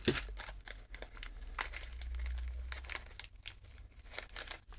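Scissors snip and tear through crinkly packaging close by, a run of sharp crackling cuts and rustles over a low hum, with no speech.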